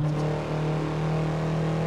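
A car engine in Assetto Corsa holds a steady, loud drone at high revs, close and continuous, with no voices over it.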